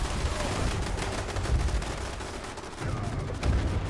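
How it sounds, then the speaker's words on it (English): Rapid automatic turret fire in Fallout 76 rattles on continuously, dense bursts of gunshots with a few heavier thumps, moderately loud and without talk. "There's a lot of turrets to shoot them"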